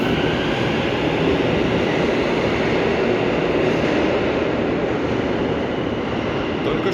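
A metro train in Almaty rumbles along at steady speed, a loud continuous roar of wheels and carriage noise from inside the car, with no pauses.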